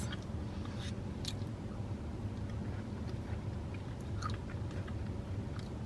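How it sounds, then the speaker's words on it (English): Someone chews ice cream with crunchy pecans, soft crunches and clicks scattered over a steady low background hum. "The pecans in here also give such a nice crunch."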